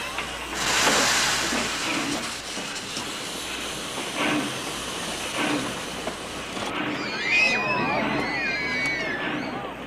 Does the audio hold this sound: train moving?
yes